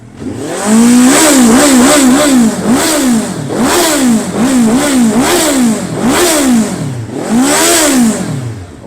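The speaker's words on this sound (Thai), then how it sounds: "เดี๋ยวเบิ้ลๆให้ฟังครับรอบจะห้าพันแล้วกัน" A 2019 Suzuki GSX1300R Hayabusa motorcycle engine is blipped repeatedly, each rev rising and falling in quick succession, loud and close with no talking.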